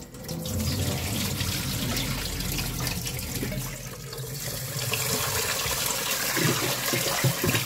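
Brown basmati rice is rinsed under a running kitchen tap, with a steady close stream of water splashing and swishing through the grains throughout.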